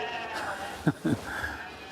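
Sheep bleat on a farm in North Antrim, two short close bleats in quick succession over a steady outdoor background hum.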